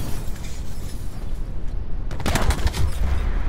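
Gunshots in a three-versus-three multiplayer shooter match: a steady background rumble, then a loud flurry of shots with a crashing, explosive edge after about two seconds.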